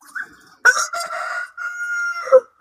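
A rooster on a rooftop farm crows loud and close, one long drawn-out call broken into several strained segments, alone with no talk.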